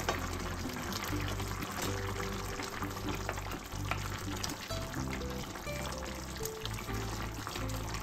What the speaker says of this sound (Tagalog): At kapag kumukulo na pong ganyan, buhusan na po natin yung karne.